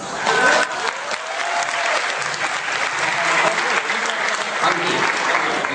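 Audience applause at a talk on personal selling, a full burst of many hands clapping that continues steadily for several seconds at close, even loudness.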